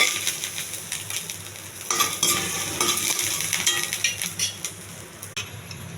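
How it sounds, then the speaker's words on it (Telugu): Dry and green chillies frying in hot oil with mustard seeds and cumin, a continuous crackling sizzle broken by bursts of stirring and utensil scrapes against the pan. "ఎండుమిర్చి అండి, పచ్చిమిర్చి ఇవి కొంచెం దోరగా వేగిస్తాను"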